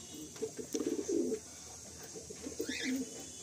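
Pigeons coo inside a small, crowded loft, a few soft throaty bursts rising and falling over a low room hum, close by and moderately loud, with no talk.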